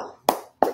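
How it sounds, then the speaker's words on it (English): Two crisp hand claps, spaced about a third of a second apart, close and dry, with nothing else around them. "Clap it up."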